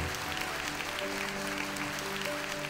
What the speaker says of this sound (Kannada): Shall we give the Lord a big hand clap?